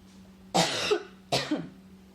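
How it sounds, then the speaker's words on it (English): Two short, harsh coughs close by, separated by a brief pause, with quiet room tone in between. "I have to cough."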